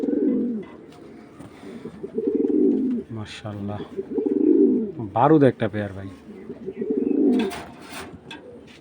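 Racing pigeons coo in a loft, several deep rolling coos repeating close by with someone talking in between.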